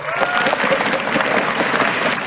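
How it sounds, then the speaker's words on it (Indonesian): An audience at a speaking event bursts into dense, steady applause for Pak Roslani, many hands clapping together at close range for a couple of seconds. "Kita berikan aplaus"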